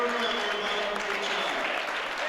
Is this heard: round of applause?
yes